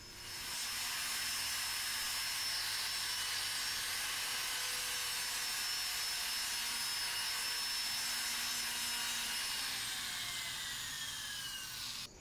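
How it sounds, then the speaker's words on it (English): A rotary tool fitted with a medium blue bristle wheel sands and polishes a silver zodiac disc for a necklace, giving a steady high-pitched whir that runs without a break for about twelve seconds, fairly quiet and close. "Silver disc requires some light sanding, so I'm using a blue bristle wheel attachment, which is medium"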